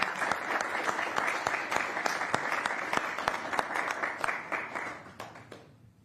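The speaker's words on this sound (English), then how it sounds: "I would also ask that we give him an applause." At a city council meeting, the audience applauds a Pierce Transit government relations representative with a steady burst of clapping. It holds level for about five seconds, then thins and fades out near the end.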